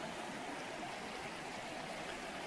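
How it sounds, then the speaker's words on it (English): An Alabama creek in Coosa County flows with a constant, close, rushing wash of water, steady and unbroken. "Just exploring this beautiful creek."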